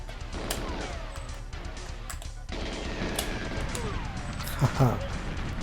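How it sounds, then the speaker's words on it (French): Gunfire and crashing impacts from the GoldenEye 007 video game: a dense run of sharp shots and bangs, with a brief louder burst near the end. Someone talks over the action. "C'est l'heure des explosions."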